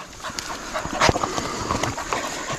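A pack of beagle hunting dogs eats close by on public land, with busy crunching, snuffling and panting, plus a few short whimpers and yips.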